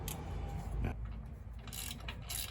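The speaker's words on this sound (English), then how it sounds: "A little bit of tightening." A wrench tightens a small quarter-inch bolt on the air spring plate of a 2024 Chevrolet Silverado 1500 pickup, giving close, quiet ratcheting clicks in short bursts with light handling noise.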